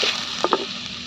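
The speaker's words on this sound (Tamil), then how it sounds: "தக்காளியும் போட்டு வணக்கலாம்." Tomatoes sautéing in a pan for an onion kurma served with parotta, a steady soft sizzle with a couple of brief stirring clicks in the middle.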